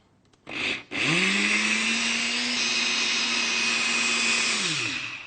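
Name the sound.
blender whizzing Kit Kat milkshake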